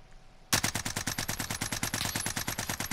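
Rapid automatic gunfire in a shooter video game bursts in after a brief quiet moment, a loud, close, evenly spaced string of shots that continues without a break to the end.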